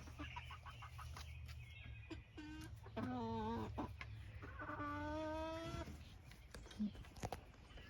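Backyard chickens resting and dust-bathing in shade during hot weather cluck and squawk close by, with drawn-out calls and a steady low murmur running underneath throughout.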